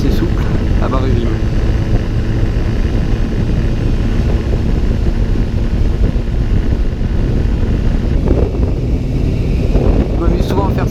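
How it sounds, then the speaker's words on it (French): A four-cylinder MV Agusta F4 motorcycle pulls from low revs in sixth gear, giving a steady, loud engine drone throughout with heavy wind buffeting and a rider's voice talking over it. "je fais un essai à bas régime en 6ème en démarrant en 50"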